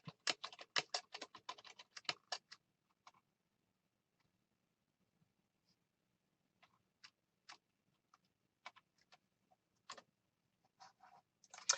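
Rapid clicking keystrokes on a computer keyboard come in a dense burst at the start, followed by a quiet pause and then scattered, irregular taps and short flurries of typing close by.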